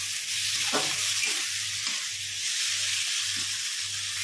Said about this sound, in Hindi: इनको 2 से 3 मिनट तक मसाले को हाई फ्लेम पे भून लेंगे